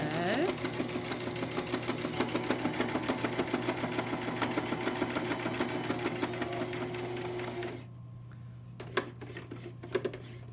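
A sewing machine stitches fabric with a steady, rapid mechanical hum and a fast rhythmic needle clatter at close range. It stops near the end, leaving a few faint clicks and handling sounds.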